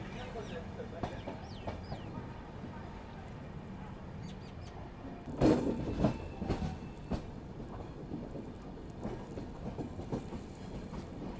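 Train running on the line between Durg and Visakhapatnam with a mountain backdrop, a steady rumble of rolling stock throughout, brief louder burst midway, and a voice speaking over it.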